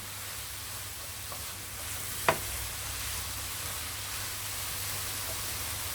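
Mushrooms browning in a hot pan, a soft steady sizzle throughout with one sharp clack of a utensil against the pan partway through, quiet and close, with no talking.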